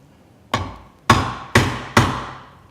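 A hammer strikes a Marples splitproof chisel four times at close range, each blow a sharp, loud knock that decays quickly, with irregular pauses between strikes.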